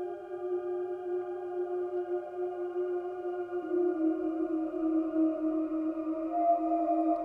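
Sustained modular synthesizer tones with stacked harmonics hold steady, the pitch stepping down once midway, with a washed, lingering reverb tail.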